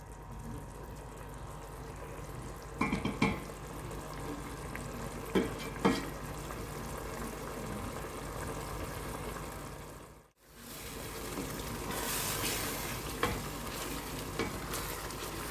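An egg and onion mixture for chicken pastilla sizzles steadily in a pan while being stirred, with occasional scraping clinks of the utensil and a brief pause before the frying resumes.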